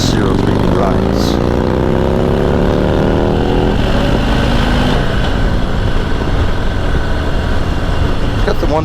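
Harley-Davidson Heritage touring motorcycle with a 114 cubic-inch V-twin riding near Sturgis through Spearfish Canyon, a loud continuous engine drone with rising gear pulls and steady wind rush, a rider talking over it.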